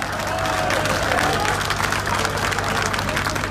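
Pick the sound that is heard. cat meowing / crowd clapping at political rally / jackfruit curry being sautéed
crowd clapping at political rally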